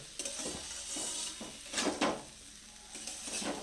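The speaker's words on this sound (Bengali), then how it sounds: "দিয়ে মশলাটা এবার একটু ভালো করে কষে নিতে হবে" A spoon stirs salted spice paste in a pan for a small-fish dish with spring onions, giving soft repeated scraping strokes over a light sizzle, close and fairly quiet.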